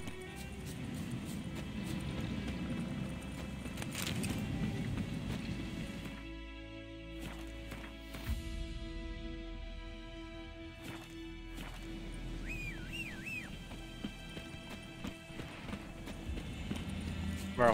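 Horse hooves clip-clopping in The Witcher 3 video game, a steady trotting rhythm under background game ambience with a player talking over parts of it.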